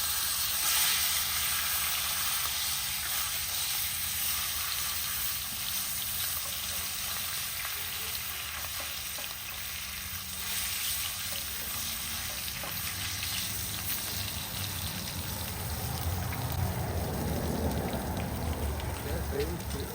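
A garlic-stuffed pork shoulder sears in a vintage number 12 Wagner cast-iron skillet, giving off a constant crackling sizzle like rain on a surface, swelling louder near the end, while someone talks intermittently.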